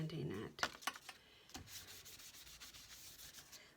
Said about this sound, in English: I'm just really lightly sanding it